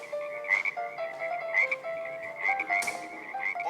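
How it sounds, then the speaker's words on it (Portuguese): Cartoon frogs croak in a repeated, rhythmic chorus of bright, ribbety calls, several overlapping pulses close and clear with no talking. "Milhares de rãs saíram do rio."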